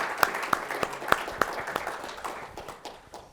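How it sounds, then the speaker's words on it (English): Audience applause for panelists at a sports communication symposium session, a moderate round of clapping with a few sharp individual claps standing out, fading gradually over a few seconds. "Big round of applause for our panelists."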